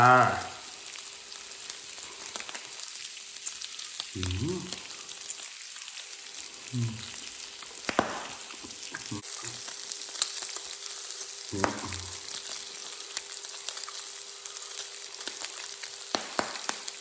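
Loud continuous sizzling of pork frying on a Thai tabletop grill, with a few brief low voices or clatters breaking in now and then.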